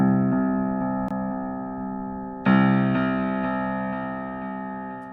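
Punchy piano chords in FL Studio with Fruity Delay Bank echo: two struck chords ring out loud and sustained, with faint repeating delay taps trailing behind each hit.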